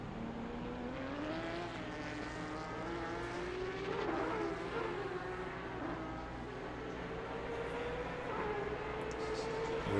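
Porsche Cup race cars in a sim racing game climbing the hill at Spa-Francorchamps, several engines droning and rising in pitch as they pass, layered whines sweeping up and down over a steady roar.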